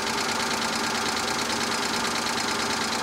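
A 2011 Hyundai Genesis Coupe engine idling after a cold start with a rapid, rattling chatter, constant and close throughout.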